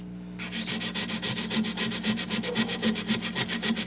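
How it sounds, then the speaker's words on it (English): Hand sanding an AEBL steel petty knife blade produces a close, steady back-and-forth rasp, about four strokes a second, continuous and alone over a low background hum. "Just doing the hand sanding on it"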